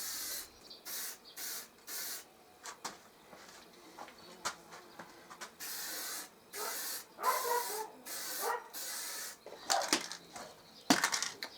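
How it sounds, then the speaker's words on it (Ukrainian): Aerosol spray can putting primer onto a plough, in repeated short hissing bursts of about a second each with brief pauses between, close and fairly loud, no talking. "А зараз ми балончиком погрунтуємо, потім пофарбуємо і будемо собирати."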